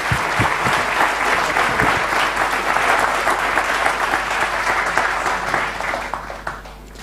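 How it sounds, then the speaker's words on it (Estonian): Sustained applause from a seated audience at an Estonian Cell industry forum, thanking panel participants after a discussion; steady, dense clapping for about six seconds that thins out toward the end. "teeme siis aplausi osalejatele"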